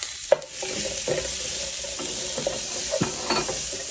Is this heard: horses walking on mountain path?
no